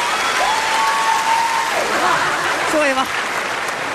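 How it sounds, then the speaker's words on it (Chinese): Audience applause keeps going at a Chinese stage comedy show, a steady broad clatter of clapping that fills the clip while a performer talks over it. "老少爷们掌声一直不停，一直撅着。"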